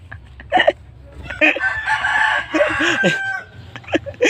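A rooster crows nearby, loud and drawn out in the middle of the clip, with shorter clucks and calls before and after.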